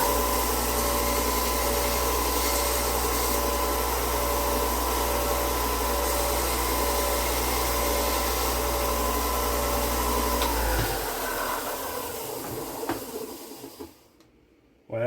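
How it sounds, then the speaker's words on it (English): A workshop sander beveling the edges of a small wooden piece hums steadily and fairly quietly at close range, its motor drone running for about ten seconds before spinning down to silence. "I'm going to take it over to the sander and bevel the edges a little bit"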